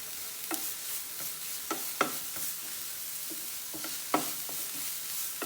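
Turmeric and chilli powder frying in a pan for beetroot thoran, a steady soft sizzle with a handful of sharp spatula scrapes and taps scattered throughout, close and moderately quiet.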